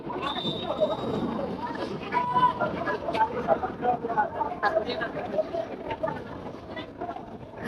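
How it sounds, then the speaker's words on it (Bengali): A crowded passenger launch ferry at Barishal reversing in back gear sends a continuous low engine drone and water wash under constant crowd babble and nearby voices. "আবারও ব্যাক গিয়ারে যাচ্ছে মানামি লঞ্চ"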